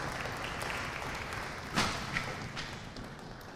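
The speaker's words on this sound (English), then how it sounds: "So have a round of applause for them, please, and their wonderful work back there" Audience at a single reed symposium concert applauding the staff, a soft, fairly distant wash of clapping, with a couple of louder thumps partway through.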